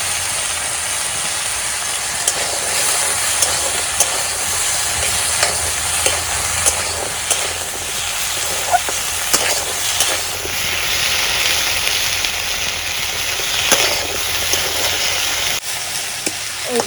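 Taro pieces frying with turmeric in a pan, giving a steady close sizzle broken by repeated scraping and stirring knocks from a utensil, which run throughout with no talk.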